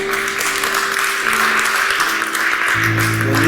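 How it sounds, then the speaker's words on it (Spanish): Church congregation applauding, a loud and continuous wash of clapping with a sustained tone, likely an organ or keyboard, rising beneath it near the end. "Dele un aplauso al Señor"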